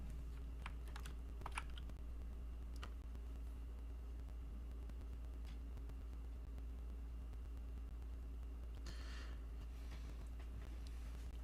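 Light, scattered typing on a computer keyboard with blank, unmarked keys, faint clicks and taps over a low steady hum.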